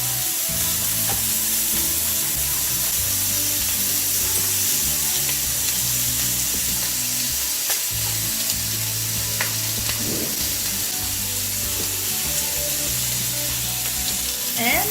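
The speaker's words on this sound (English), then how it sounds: "You can put the onion also to start baking it." Onion frying in a pan for burgers, a steady loud sizzle with occasional crackles and soft stirring scrapes running continuously throughout, no talking.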